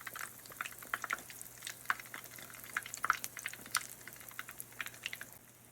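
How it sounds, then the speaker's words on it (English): Sourdough dough, for elephant ears or beaver tails, frying in a heated pan gives a steady crackling sizzle with frequent sharp pops, close and fairly quiet throughout. "our pan is heated up, and I'm just gonna gently place our dough"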